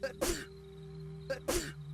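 Two short, sharp sneezes about a second apart, close and fairly quiet, each preceded by a brief catch of breath, over a faint steady background hum.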